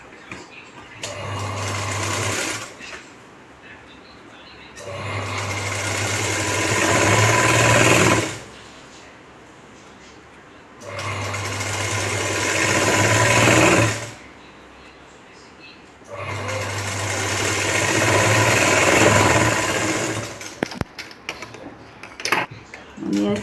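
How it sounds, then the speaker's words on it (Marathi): Sewing machine stitching strips onto a Paithani saree blouse: three long, loud, steady whirring runs of several seconds each, separated by quieter pauses, with a few faint clicks and handling sounds near the end. "दोन्ही पट्ट्या शिवून घेऊ दोन्ही साईडने"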